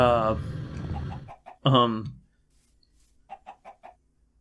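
A person talks briefly, then after a pause four short, evenly spaced chicken clucks from Minecraft sound in quick succession, clean and close.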